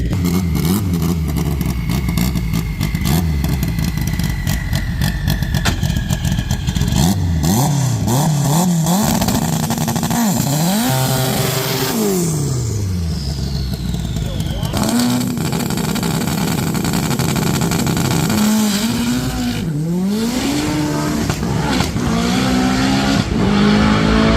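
Street car drag racing test pass: a loud engine revs hard through repeated rising gear pulls, shifting several times as the car accelerates away, sustained and close throughout.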